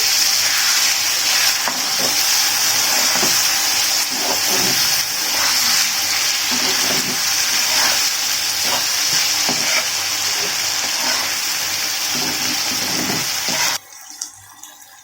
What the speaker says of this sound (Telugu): ఒక 10 నిమిషాల పాటు ఇలా ఫ్రై చేసుకోవాలండి.